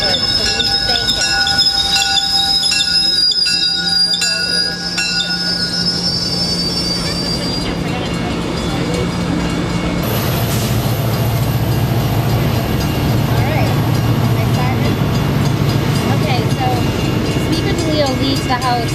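A train rolls past an outdoor press conference about ethanol, loud and near, its wheels squealing with a high sustained screech over heavy rumbling while voices carry on.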